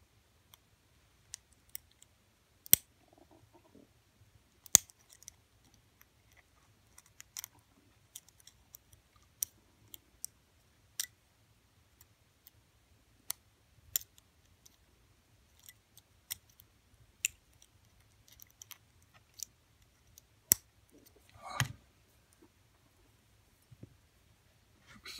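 Sparse small metallic clicks and ticks come from a pick and tension wrench working a heavy lock, irregular and close, with quiet gaps between them.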